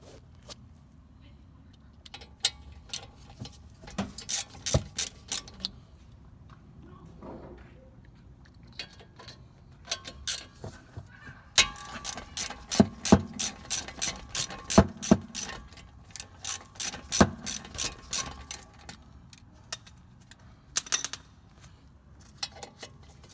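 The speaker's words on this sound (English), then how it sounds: "And then I'm gonna be removing the bolts." Bolts being loosened from the front brake caliper bracket of a 2007 BMW 328i E90, with irregular metallic clicks and ratcheting taps, some close and sharp, scattered through the clip alongside clinks of tools.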